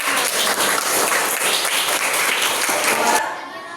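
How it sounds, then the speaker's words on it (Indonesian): Applause from a classroom audience of students and teacher, loud and steady clapping for about three seconds, then cutting off abruptly to quieter room tone. "Tepuk tangan untuk kita semua."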